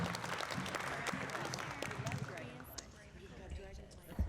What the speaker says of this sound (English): Please give yourselves a round of applause for being so thoughtful.